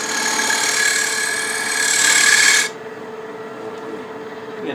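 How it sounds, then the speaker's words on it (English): A 1/4 inch cove tool cuts a trench into wood spinning on a lathe while turning a picture frame, giving a loud, steady rasping hiss that stops abruptly, leaving only the lathe's quieter hum. "I'm using this 1/4 inch cove tool to get there to make a little trench"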